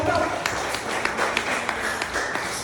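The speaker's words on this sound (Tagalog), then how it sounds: "Palakpakan natin si Jesus. Malakas sa palakpak. Mga bata, palakpak." Church congregation clapping hands in rhythm, a steady series of sharp claps about every quarter second with a preacher's voice over the top.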